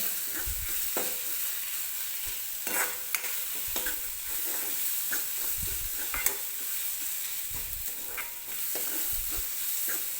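Ground coconut, garlic and ginger paste roasts in a pan for a peanut curry. A continuous sizzle runs throughout, broken by repeated scraping stirs and low knocks of a spoon against the pan, with no voices.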